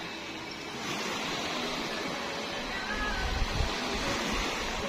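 Sea surf at Playa de Oro in Lobo, Batangas, heard from a fourth-floor vantage point as a steady, broad wash of waves, a continuous rushing roar with no pauses.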